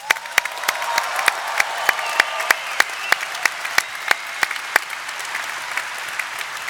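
A large hall audience of about 6,000 people in Bremen applauding steadily, a dense wash of clapping with sharp regular claps standing out close by and faint cheering mixed in.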